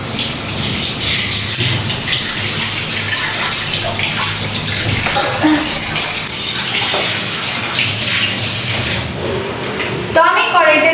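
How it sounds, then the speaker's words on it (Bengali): Water gushes loudly and continuously into a kadai as its inside is washed, a strong splashing flow that runs for about ten seconds before cutting off into a brief clatter. "এবার একটু কড়াইয়ের ভিতরটা ধুয়ে নেব।"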